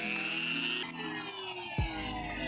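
A small rotary tool with a cone attachment whines at high speed, its pitch wavering as the bit grinds detail into a spear pommel, then dropping sharply as it slows, fairly quiet.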